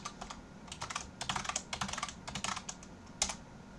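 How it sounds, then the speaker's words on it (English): Password typed on a computer keyboard, with soft, fast key clicks in irregular bursts, close and quiet, and no voices. "It's going to ask me for my current password, so type that in"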